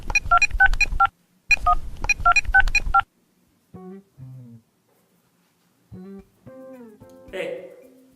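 Telephone keypad DTMF tones sound in two quick bursts of rapid dialing, followed by a few scattered electronic tones and a short noise at the end.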